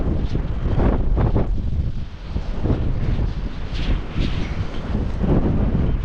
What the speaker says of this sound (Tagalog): Lakas po ng hangin ngayon.